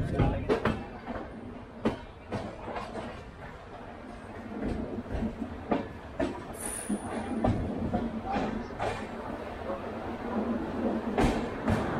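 Jaipur to Delhi Double Decker Express 12985 running along the track, with rhythmic clickety-clack wheel beats and rattling carriage noise heard from inside, steady and moderately loud.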